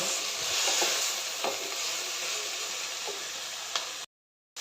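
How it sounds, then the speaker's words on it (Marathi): Bitter gourd sautéing in a pan with onion and tomato: a continuous hissing sizzle with a few soft stirring clicks, steady and fairly close, ending in a short silent gap. "कारली एक पाच मिनटं चांगलं परतून घ्यायचं आहे"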